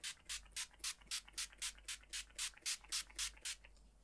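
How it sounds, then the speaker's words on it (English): Makeup setting spray spritzed from a pump bottle in a quick, even run of about thirteen short hissing bursts, close and fairly soft, with no voice. "So I'm going to use my setting spray on my do side."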